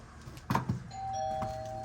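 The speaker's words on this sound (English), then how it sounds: "Doorbell's working." A single electronic doorbell chime rings out clearly after a couple of soft knocks, its tone holding steady in a quiet room of a newly built house.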